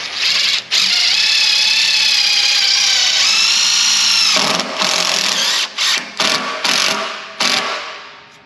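A power drill whines steadily for several seconds driving a self-tapping screw through pre-drilled wood and metal, then stops and restarts in short bursts as it finishes, close and loud.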